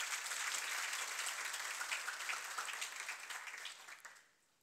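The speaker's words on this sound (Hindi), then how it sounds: "तो इनके जोरदार तालियां" An audience at a coaching institute ceremony honours a successful exam candidate with steady, fairly distant applause that holds for about four seconds before tapering off.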